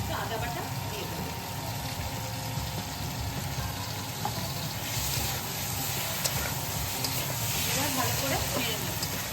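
Onion and tomato fried down with cumin powder and ginger paste sizzle steadily in a pan while being stirred, a constant frying hiss with faint scrapes throughout.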